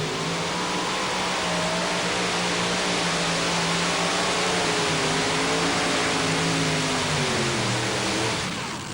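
Unlimited modified pulling tractor engines roar continuously at an NTPA tractor pull in Chapel Hill, Tennessee, a loud, sustained, dense engine drone with rising and falling pitch throughout, no voices.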